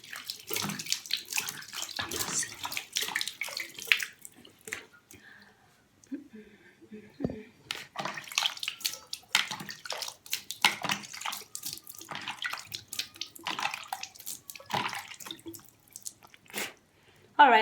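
Face being rinsed with room temperature water at a sink, giving irregular splashes and drips up close, with a brief quiet pause in the middle.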